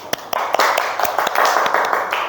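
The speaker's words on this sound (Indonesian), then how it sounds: "Oke, beri tepuk tangan dulu." Children in a second-grade classroom clap their hands, a loud, close, quick burst of many overlapping claps with several sharper individual smacks standing out.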